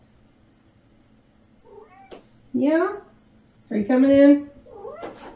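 A domestic cat meows up close, a couple of clear drawn-out calls between stretches of a person speaking softly to it indoors.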